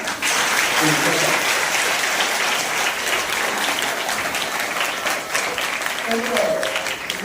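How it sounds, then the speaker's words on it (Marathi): Sustained clapping from a crowd fills the whole stretch, dense and steady, with a few faint voices and tones mixed in underneath. "त्यासाठी एका टाळ्या वाजवा"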